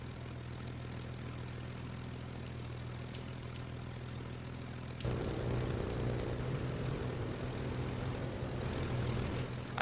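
Transport plane engines and propellers running in the video game Space Engineers, a steady droning hum that grows louder and fuller partway through and holds on with no voices.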